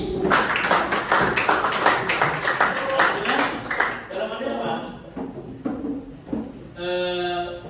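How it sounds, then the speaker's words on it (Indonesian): An audience at a school performance assessment claps in sharp, closely spaced bursts for the first half, then the clapping thins out and a voice begins talking over the last few seconds. "Tepuk tangan untuk kita sendiri."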